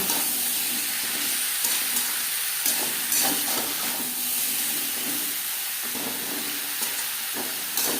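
Potatoes and pointed gourd fry together in a little oil, giving a steady, close sizzling hiss with occasional stirring scrapes throughout.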